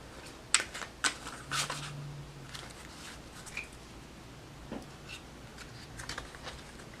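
An oracle card deck is shuffled and handled, giving a few soft, close riffling and snapping card sounds early on, then quieter light rustles and taps in a hushed room.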